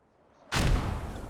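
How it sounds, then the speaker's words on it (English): Mortar fire in the Post Scriptum video game, a single loud boom striking suddenly after near-silence and rumbling away. "The mortars continue."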